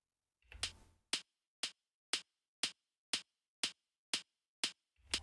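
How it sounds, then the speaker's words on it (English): A percussive click sample layered onto a kick drum repeats about ten times at a steady rhythm, each hit short and crisp with a bright top end. The first hit is longer and fuller. "And the click that I added sounds like this."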